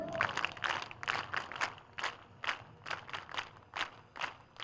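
Rhythmic unison clapping from an assembled crowd at an Arya Veer Dal ceremony, a dozen or so sharp, evenly spaced claps in a steady military-style beat, fairly close and clear.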